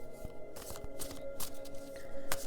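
Tarot cards are shuffled by hand for a spiritual reading, producing quiet, close rustling and snapping riffles in irregular bursts over a faint steady hum.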